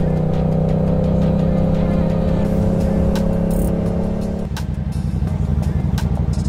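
A Yamaha MT-07 motorcycle riding, its engine drone loud and steady up close, then the tone shifts lower partway through as the ride continues, with wind rumble and no clear talking.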